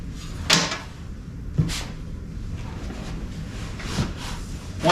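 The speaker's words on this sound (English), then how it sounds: "That triggers the door to open." A car door's electronic latch is released with the safety release and the door opens, giving a few sharp mechanical clunks and clicks spaced about a second apart over a quiet workshop background.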